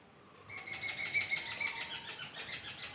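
Crows and other birds calling outdoors, a burst of bright repeated chirps close by that begins after a short silence and continues steadily with no talking.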